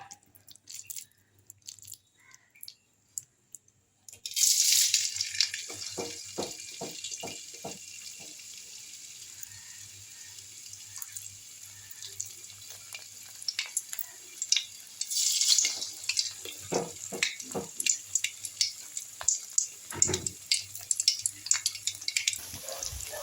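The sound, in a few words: pakora frying in hot oil in a wok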